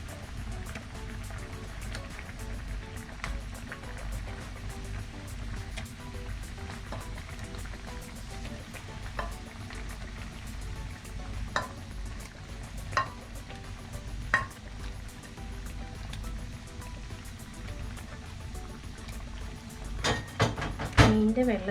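Pieces of needle fish dropped into a boiling curry gravy in a Kerala kitchen: a faint, steady simmering hiss with a few soft plops and clinks, and a small cluster of splashes near the end.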